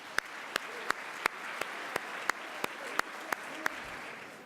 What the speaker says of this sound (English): please join me in a round of applause for the 2015 MITSS Dinner Leadership Committee